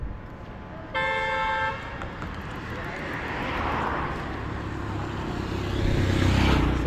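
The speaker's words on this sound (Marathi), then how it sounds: "थांब, गाडी येते." A car horn gives a single bright toot of about a second, close by on a village road in the Kokan countryside, followed by the rising rumble of a passing vehicle over steady road and engine noise.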